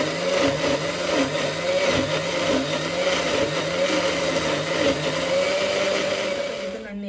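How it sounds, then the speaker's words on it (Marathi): A mixer grinder blends roasted onion masala with no water added, a loud steady whirring drone with rhythmic pulsing as the contents churn, running continuously close up throughout. "डायरेक्ट हेपळ्यात जे हा पळय न्हू ते डायरेक्ट मिक्सीक लायता"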